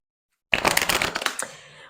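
Oracle des Météores oracle cards being shuffled by hand: after a moment of silence, a close, crisp burst of rapid papery flicks and riffles lasts about a second and trails off.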